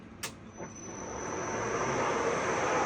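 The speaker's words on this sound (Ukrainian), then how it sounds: "Включаємо різьбовий вал. Дивимося, чи він крутиться." Lead screw of a 1A616 lathe being switched on: two brief clicks, then a steady machine hum that slowly builds and keeps running with a faint high whine.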